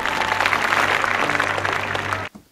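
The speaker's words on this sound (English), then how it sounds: "Who is clapping?" Applause fills a scene from the film Fateful Findings, a dense burst of clapping from a crowd heard with a low hum beneath, running for about two seconds before cutting off abruptly into near silence.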